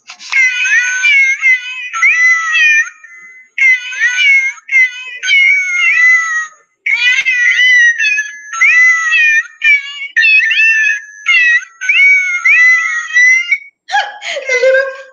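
Kittens meow repeatedly in high, plaintive cries, closely spaced and loud, with short pauses between bursts and a lower wail at the end.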